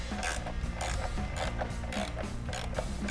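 Two Torx T25 bolts being loosened on a Harley-Davidson Road Glide ST, a steady close ratcheting clicks from a hand tool in a dense repeating rhythm with no talking.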